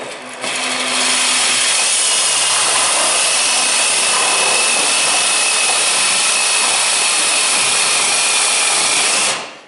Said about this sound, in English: I'm going to try and cut this handle off with this sawzall and see how this works